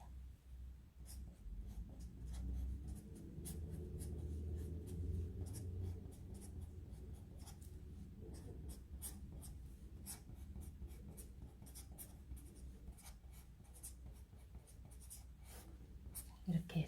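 A name pen marker squeaks and scratches across a surface as a name is written on a drawing, quick close strokes in bursts alongside quiet room tone.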